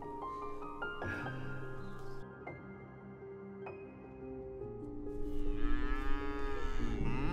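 Cattle mooing amid other livestock, repeated lowing calls with a steady mid-level din that swells louder toward the end.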